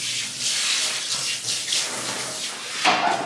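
Water runs steadily from a tap while face gel is rinsed off, a loud continuous hissing gush with small splashing changes and a brief louder burst near the end, with no talking.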